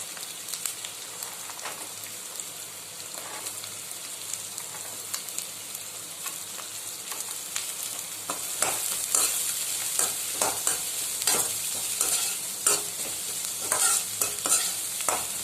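Carrot and beans sauté with onion in a pan, a soft steady crackle that grows louder midway as the vegetables go in, with frequent close scraping stirs and no speech.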